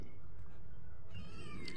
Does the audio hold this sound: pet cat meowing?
yes